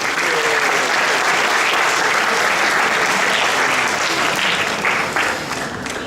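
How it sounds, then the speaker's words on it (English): Loud, dense applause from an audience at a school Shakespeare drama competition awards ceremony, honoring the main sponsor, continuous for several seconds and easing off near the end. "Can we also give a round of applause to our main sponsor"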